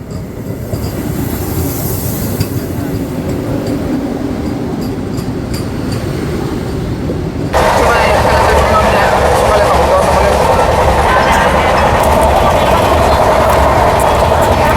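The Kanchankanya Express rumbles along with a steady clickety-clack from inside a crowded general coach, loud and continuous, growing louder halfway through as the wheels roar harder. There is no talking.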